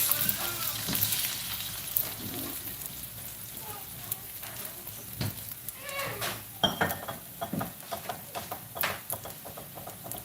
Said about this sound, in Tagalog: maglalagay tayo ng oil At syempre, ilalagay natin yung ating eggs